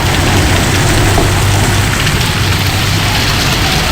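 Steady, loud rain falls on roads in Giridih, a dense continuous hiss with a low rumble underneath and no pauses.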